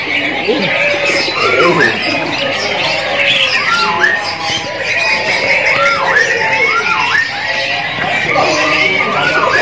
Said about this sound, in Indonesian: inilah penampakannya dari burung jala ongkong yang anakan atau jala hongkong mudaan